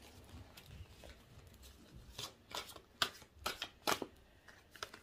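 Tarot cards being shuffled and picked out: soft, close riffling and slapping card sounds in irregular bursts, growing denser toward the end, quiet and free of speech.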